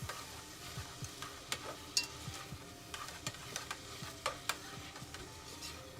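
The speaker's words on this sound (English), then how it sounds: "sauteing the onions and the leeks first, as usual" Onions and leeks sauté in a hot pan with a soft, steady sizzle, broken by repeated clicks and scrapes as a utensil stirs them, close but fairly quiet.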